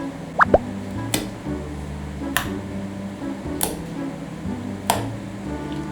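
Soft wet plops and squishy taps from poking a thick, glossy slime made to look like sour milk, four or five separate pokes spaced about a second apart over a faint background hum.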